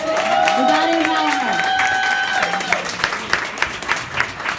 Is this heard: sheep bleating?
no